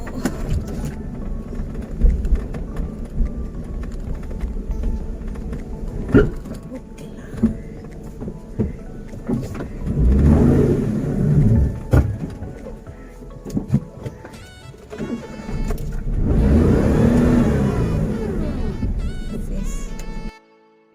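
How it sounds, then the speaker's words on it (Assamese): A car starting up and pulling away, its engine rumbling and revving in uneven bursts close by, mixed with knocks and handling noises and a few brief voices. "এতিয়া গাড়ীত বহিলোঁ আৰু এতিয়া ষ্টাৰ্ট দিম"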